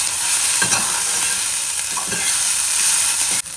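Onion, garlic, ginger, carrot and capsicum stir-fried in a little oil in a pan, with a steady close sizzle and a few scraping stirs throughout, and no talk.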